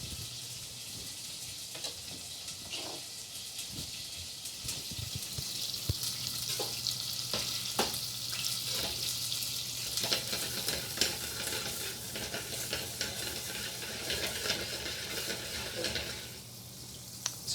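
Butter melting and bubbling in a pan with a whisk stirring through it, a steady soft sizzle with scattered taps and scrapes of metal against the pan, close but fairly quiet throughout.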